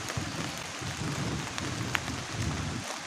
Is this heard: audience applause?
no